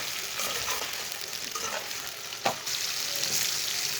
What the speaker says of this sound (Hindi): गोश्त डाल के इसे 1 मिनट तक भून लेंगे।